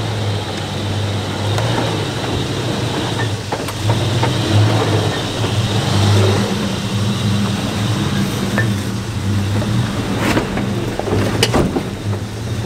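Ford Ranger Raptor on 35 inch tires driving off-road, a loud continuous drone with low engine and tire roar, occasional rattles and clunks from the cabin, no talking.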